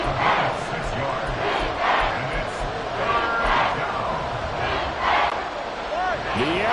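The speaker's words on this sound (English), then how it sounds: "it's The Arrowhead crowd in full roar" The crowd at Arrowhead Stadium roars during a football game, a loud, sustained wall of cheering with surging swells, filling the whole moment without any speech on top.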